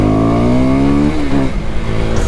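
KTM 390 Duke motorcycle engine revving hard, a loud close rising whine with a strong harmonic stack that climbs, drops as the throttle closes, then sputters into a rougher idle.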